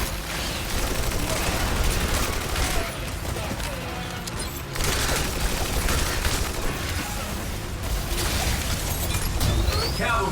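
Rapid gunfire and grenade blasts from the video game Exoprimal rattle on in dense, loud bursts with booming impacts, a continuous barrage lasting several seconds with game voices mixed in.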